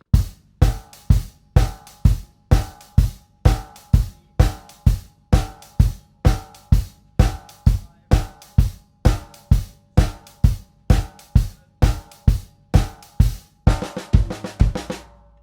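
A steady rock drum beat, with a punchy bass drum on all four quarter notes and crisp hi-hat, played evenly throughout, ending with a brief cymbal wash.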